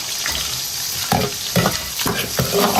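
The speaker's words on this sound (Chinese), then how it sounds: "油热，葱姜蒜香叶桂皮爆香" Crayfish and aromatics (scallion, ginger, garlic, bay leaf, cinnamon) stir-fried in hot oil with homemade hotpot base, a steady sizzle broken by several rhythmic scraping stirs of the wok, close and clear with no talking.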